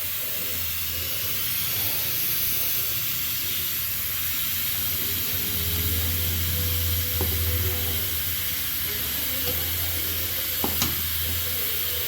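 Milk with ginger boiling in a pot, a continuous hiss and soft bubbling heard up close, steady throughout with a low background hum.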